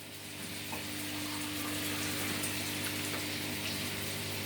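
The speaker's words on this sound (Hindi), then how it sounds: "हाफ कप पानी मैं इसमें हाफ कप पानी डाल दूँगी।" Half a cup of water is poured into a pan of chicken kofta, making a steady, continuous gushing splash that stays fairly loud and even for several seconds, with no talking.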